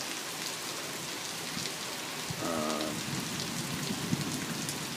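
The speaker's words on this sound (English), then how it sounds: "It's raining pretty heavily right now." Heavy rain pours steadily onto surfaces during a morning thunderstorm, a dense close hiss that runs throughout. A brief tonal rumble rises near the middle, and no one speaks.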